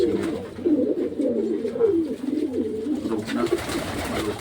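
A pigeon coos steadily in low, throaty, warbling phrases, close by, with faint background noise.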